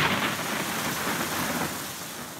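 Winter-storm rain and hail come down on Phoenix, Arizona as a dense, steady hiss of drops on surfaces, loud and unbroken, with no speech.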